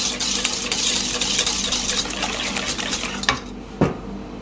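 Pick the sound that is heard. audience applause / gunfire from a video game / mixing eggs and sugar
mixing eggs and sugar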